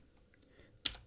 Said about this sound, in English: So I'll type that in here.